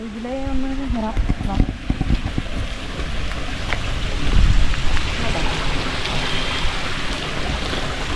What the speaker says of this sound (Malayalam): ഇവിടെ ഒരു ചെറിയ വെള്ളച്ചാട്ടം ഉണ്ടല്ലോ